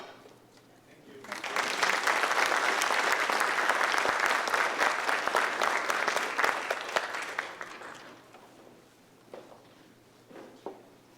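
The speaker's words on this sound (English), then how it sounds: "applaud yourselves for being here this morning" A conference audience bursts into applause, a dense clapping wash lasting several seconds before thinning out to a few scattered claps.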